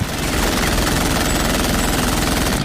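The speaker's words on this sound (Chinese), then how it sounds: "再拿枪疯狂射击" Rapid, continuous automatic gunfire in a gangster film scene rattles loudly without pause, a dense burst of shots filling the whole stretch.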